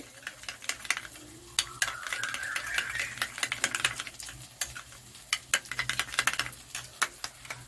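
Chili powder and turmeric are mixed into sour yogurt in a bowl. Quiet, close, irregular clicks and taps of a spoon come in quick bursts over a faint background hum.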